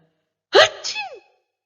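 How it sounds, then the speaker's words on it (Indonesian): A loud, sudden sneeze sound effect standing in for an elephant in a children's story: a sharp burst followed by a trailing, wheezy exhale, heard alone against silence. "Tiba-tiba, gajah pun bersin dengan sekuat tenaga."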